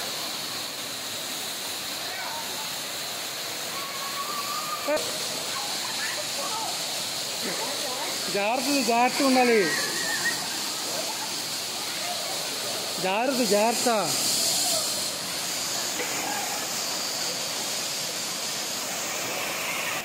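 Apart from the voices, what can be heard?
waterfall, Kothapalli Waterfalls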